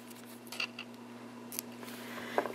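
Scissors snip through beading thread while finishing a woven beaded bracelet, giving a few quiet, close cuts at intervals over a low steady hum.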